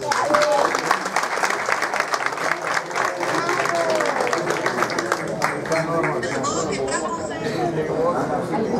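Crowd at a Central American independence event in Queens, New York claps loudly and continuously for Nicaragua, with chatter and scattered voices mixed into the applause, which stays dense for nearly nine seconds.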